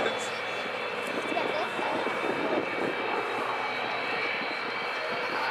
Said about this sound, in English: we have once again the Lancasters lining up to come over.